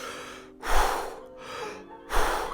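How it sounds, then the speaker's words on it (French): Two slow, deep breaths taken close to the microphone, each a long audible inhale followed by a softer exhale, in a quiet room with no other sound. "en prenant des inspirations plus lentes et plus profondes, plutôt comme ça"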